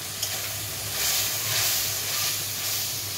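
Ground spice paste sizzling in a frying pan with prawns, a steady broad hiss that swells slightly as liquid is added, close and continuous with no talk.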